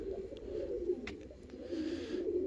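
Pigeons cooing softly in a loft, low repeated coos rising and falling, fairly faint, with a few small clicks and rustles and no talk.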